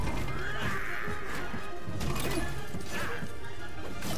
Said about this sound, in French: En même temps, tout explose son truc là.